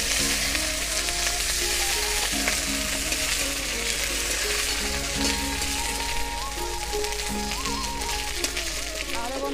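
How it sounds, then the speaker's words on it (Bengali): Dried chilies, ginger paste and slit green chilies sizzling in hot oil in a pan, a loud steady frying hiss throughout, with music playing underneath. "নেড়ে চেড়ে দেব।"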